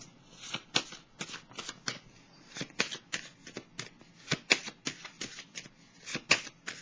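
Tarot cards being shuffled by hand, a close, crisp series of rapid riffling flutters and slaps repeating in quick, uneven bursts for several seconds.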